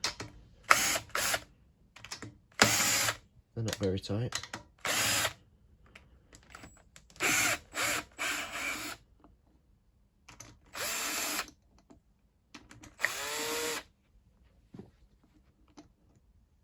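A power drill spins off cam cover bolts on a Yamaha Raptor 700 ATV engine, a series of short loud whirring bursts separated by pauses, with a brief spoken remark in between.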